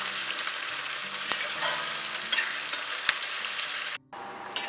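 Chopped onions fry in hot oil for a mutton and potato curry, a continuous close sizzle broken by a few sharp clinks of a stirring spoon against the pan, then a brief drop and resumed sizzling, with no speech.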